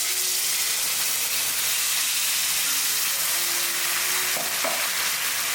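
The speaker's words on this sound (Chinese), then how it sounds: "再翻炒一会儿，加入开水煮开。" Stir-fried pork intestines hiss and sizzle steadily in a hot wok after boiling water is added, a loud continuous bubbling roar with a couple of faint clinks near the end.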